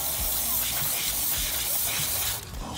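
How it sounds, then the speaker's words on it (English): Aerosol cleaner sprayed into the throttle body of an 11th-generation Toyota Corolla, a close, continuous hiss with faint ticks underneath, ending in a brief burst. "I'll spray some more here."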